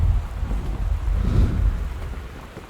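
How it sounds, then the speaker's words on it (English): Thunder in the video game Gone Home: a deep, heavy rumble that swells and rolls for a few seconds, with a steady hiss of rain beneath it and no talking. "Seriously, stop with the thunder!"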